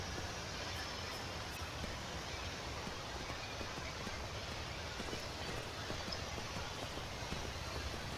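Horse hooves gallop in Skyrim, a video game: a quiet, continuous run of rhythmic hoofbeats over a faint steady background, with no talking.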